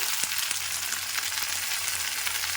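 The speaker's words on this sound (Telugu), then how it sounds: "ముల్లంగి ఆకు ఇది దీంట్లో వేసేసుకొని ఫ్రై చేసుకుందాం" Finely cut radish leaves fry in a pan with a dense, even hiss of sizzling oil, close and steady throughout, with a few faint taps from the pan.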